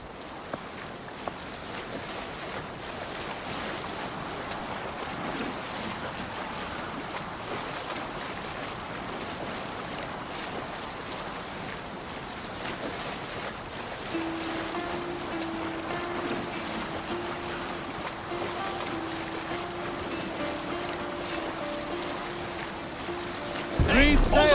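A Viking sailing ship at sea in Assassin's Creed Valhalla, near Jorvik: a steady wash of wind and water against the hull, fairly quiet and continuous, with a faint sustained tone entering partway through and a sharp louder burst at the very end.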